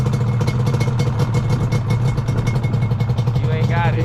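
A Yamaha Banshee 350 two-stroke quad engine revs and idles with a buzzing, pulsing rasp close by, carrying two riders, while voices talk over it throughout.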